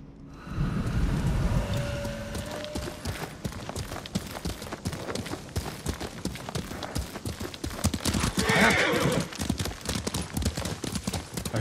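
A horse ridden in Ghost of Tsushima, its hooves clip-clopping in a quick, steady rhythm close by, with rain-like patter mixed in throughout.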